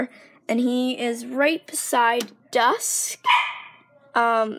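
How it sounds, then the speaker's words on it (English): A dog at a horse barn yips and barks in short bursts between stretches of a person talking nearby, the barks sitting fairly close and mixed in with the speech. "sorry about my dog in the background"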